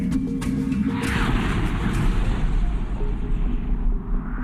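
An asteroid impact explosion, equivalent to 100 million tons of TNT, roars as a sustained, heavy rumbling blast with deep low-end boom and crackling debris bursts, loud and continuous throughout.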